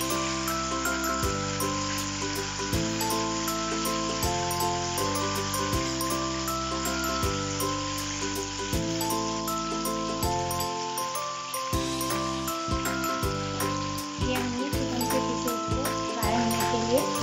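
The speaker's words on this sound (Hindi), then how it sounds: "ये हमारे चिकन के पीसेस को हमने फ्राई के लिए रख दिया है।" Chicken pieces frying in hot oil for murgh musallam give off a steady, dense sizzle that runs continuously beneath prominent melodic background music.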